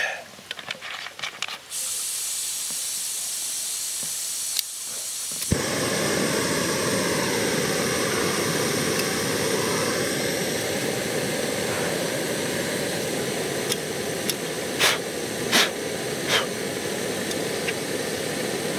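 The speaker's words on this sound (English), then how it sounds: "Hopefully speed up that boiling process a little bit." Water heating for coffee on a camp stove at a hammock campsite in a forest: a steady, loud, broad roaring hiss that runs unbroken for most of the stretch, with a few faint clicks and no voices.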